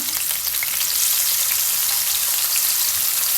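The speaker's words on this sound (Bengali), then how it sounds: "পেঁয়াজটা দিয়ে দিচ্ছি গরম হয়ে গেছে এখানে প্রায় এক কাপের মতো পেঁয়াজ দিলাম" About a cup of onions frying in hot oil for liver bhuna, giving a loud, steady, close-up sizzle with a dense, even crackle that holds throughout with no voices.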